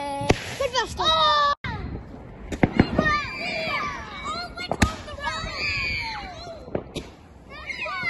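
Small bonfire night fireworks crackle and pop in sharp bursts while children chatter and shout excitedly nearby, their voices mixing with the bangs.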